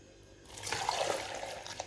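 Cold water pours into an apple juice mixture with ice cubes and apples, a short close splashing rush that starts after a quiet moment and continues to the end.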